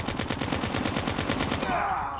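Rapid automatic gunfire from a favored weapon in Call of Duty Mobile, a steady loud burst of evenly spaced shots lasting about two seconds before easing off.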